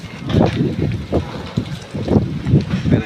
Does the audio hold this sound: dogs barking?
no